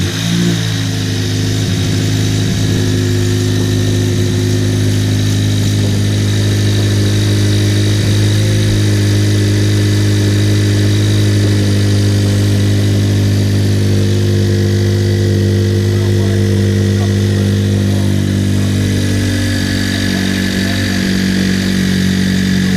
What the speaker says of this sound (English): Should make a little bit louder noise for the intake.